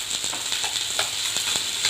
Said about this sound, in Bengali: মাছটা আমার ভাজা হচ্ছে।